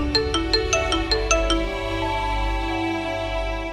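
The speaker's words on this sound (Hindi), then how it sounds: "इतनी रात को इसका क्यों फोन आ रहा है?" A phone ringtone plays a quick series of bright electronic tones, then holds a sustained melodic chime, loud and close with no talking.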